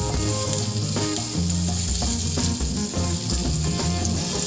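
Green beans fry in hot oil with a dense, continuous sizzle and crackle, loud and close throughout, with faint stirring under the spatter.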